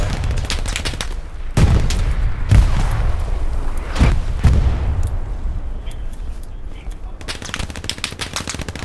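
Tank machine gun firing in Hell Let Loose, sharp loud bursts of automatic fire with several heavy booming shots mixed in, continuing over a battlefield din.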